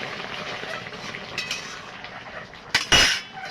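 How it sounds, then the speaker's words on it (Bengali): A spoon stirs fish and eggplant curry in a pan, giving soft scraping and a few clinks, with a louder clattering burst near the end. "এবার নাড়িয়ে দেবো।"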